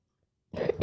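A single short cough after a moment of silence, close and fairly loud.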